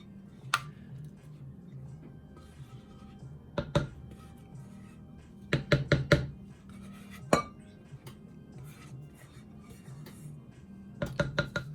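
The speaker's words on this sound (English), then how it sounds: "here, we're mixing them up. Our wet ingredients into our dry ingredients." Wet ingredients are stirred into dry ones for an old-fashioned peanut butter cake, a utensil clinking sharply against the mixing bowl in scattered bursts, some quick runs of several knocks, over a quiet background.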